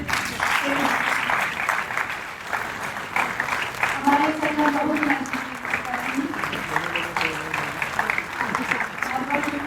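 Crowd applause for a stage event honoring a cultural organization's patron, steady clapping running beneath someone speaking over a microphone throughout.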